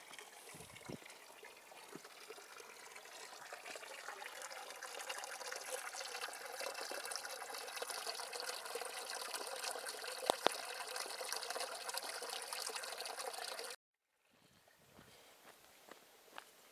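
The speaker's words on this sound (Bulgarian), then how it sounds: "И те там се вижда чешмата." Water runs continuously from a mountain drinking fountain in the Sliven Balkan, a steady close rush with faint footsteps, stopping abruptly near the end.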